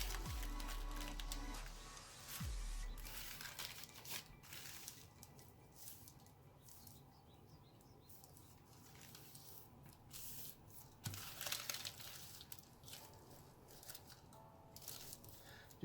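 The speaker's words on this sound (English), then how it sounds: "we're going to mountain fold this crease" Paper is folded and creased for an origami lyrebird. Quiet rustling comes close up, with soft crinkles and brief sharper creasing strokes, and a louder rub near the start and again around the middle.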